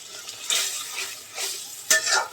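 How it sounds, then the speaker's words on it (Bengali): Spice paste for duck rezala fries in a pan while being stirred, heard as a short run of soft scraping swishes and a light metallic clink, close and fairly loud. "আমি এখন মশলাটা কষিয়ে মাংসগুলো দিয়ে দিব"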